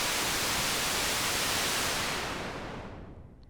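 Steady hiss of white noise, loud and broadband, with the highs gradually rolled off by a Tembra Dual All Pass Filter module sweeping down toward the end.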